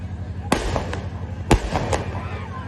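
Firecrackers bursting outdoors during a school annual day kids' festival: two loud, sharp cracks about a second apart, each followed by smaller pops, with voices murmuring in the background.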